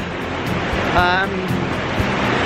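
Stream water rushing over a small waterfall at Spruce Brook, Connecticut, a steady broadband wash heard close and continuous, with a brief tonal whine rising midway.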